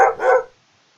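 A dog gives two quick, close barks in succession, then silence follows.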